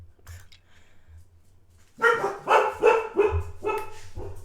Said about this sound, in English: And now my dogs want to bark